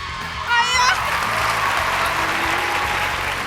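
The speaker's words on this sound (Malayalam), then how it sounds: "ഒരു കൈയടി കൊടുത്തേ." Applause from a school audience at a student stage show, steady clapping that swells briefly and holds at a moderate level, with a hint of crowd voices mixed in.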